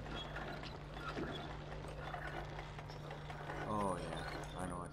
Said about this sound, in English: Supposed to grind meat.